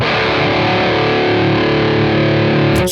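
Heavily distorted alternative rock electric guitar, an Amplitube 5 tone run through a master chain with a compressor and a couple of EQs, plays a loud, dense sustained chord for about three seconds before cutting off abruptly.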